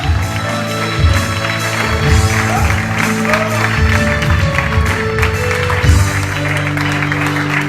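A congregation in a Pentecostal church in Porto, Portugal, applauding; a steady wash of clapping runs over sustained music, with a few louder bursts.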